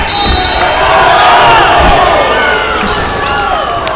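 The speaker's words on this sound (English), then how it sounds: "As Stride is getting the crowd into this, and it's now getting very loud" A high school basketball crowd at a Tri-West versus West Lafayette game roars loudly, a dense and continuous wall of cheering and shouting that stays at full volume, with faint voices carrying through it.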